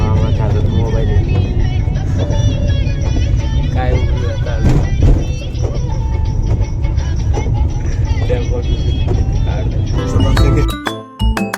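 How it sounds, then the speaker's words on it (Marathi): A car travelling along a road with Dad driving, a loud continuous engine and road rumble beneath people talking, with a few light clinks and a sudden drop near the end. "पप्पा कार चालवत आहेत"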